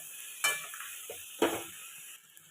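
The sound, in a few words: garlic and tomatoes sautéing and being stirred in a pan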